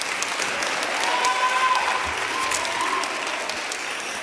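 Steady applause fills a room at a high school football recognition night as players named to all-coastal teams are honored, a dense wash of many hands clapping evenly throughout, with faint murmurs beneath.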